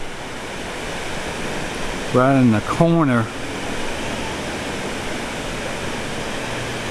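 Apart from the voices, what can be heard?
water pouring down a dam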